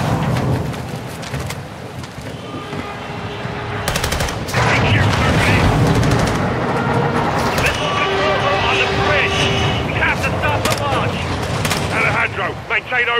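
Gunfight in the video game Operation Dark Water, set in the Gulf of Mexico: loud, dense bursts of automatic gunfire and sharp shots over a constant rumbling backdrop, continuing without letup, with voices mixed into the din.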